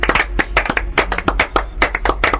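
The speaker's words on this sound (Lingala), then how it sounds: "Tobeteli maboko makasi." A church congregation claps hands in worship, producing steady, rhythmic claps that ring out clearly and close by, with no talking over them.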